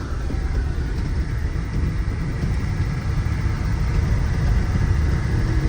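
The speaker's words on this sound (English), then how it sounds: "It sounds like the motor's clearing out too." A Dentside truck's steady low engine rumble idles continuously with no breaks, close and fairly loud, with no voices over it.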